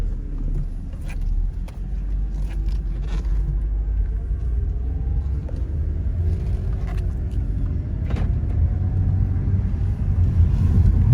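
A 2011 BMW 328i drives along with steady engine drone and low road rumble, smoothly shifting gears and rolling over a bump, the rumble growing slightly louder toward the end, with no talking.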